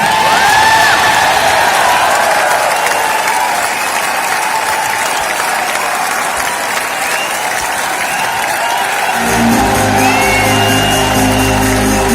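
A large audience at a networking meeting bursts into loud, sustained applause, dense clapping filling the hall for several seconds before it thins and other sound takes over near the end.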